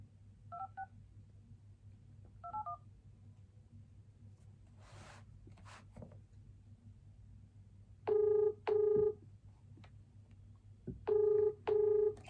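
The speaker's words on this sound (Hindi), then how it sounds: "मैं दूसरा नंबर मिलाती हूँ।" A telephone number is dialed, with crisp electronic keypad tones: two faint early beeps, then two pairs of louder, longer tones close together, over a quiet low background hum.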